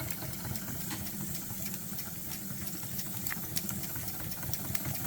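Small SEL 1530 model steam engine running, a faint, fast, even mechanical chuffing and ticking close by, steady throughout with no talk.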